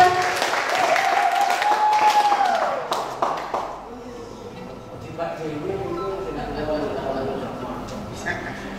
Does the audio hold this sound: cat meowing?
no